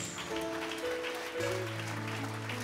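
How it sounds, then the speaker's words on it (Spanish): A church congregation claps steadily in a dense wash of applause, with a sustained musical tone sounding underneath. "Dele un aplauso a Jesús"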